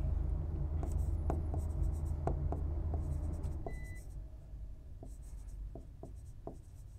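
Marker or chalk writing on a classroom board, a series of close scratchy strokes and taps at an uneven pace over a steady low background hum, with no speech.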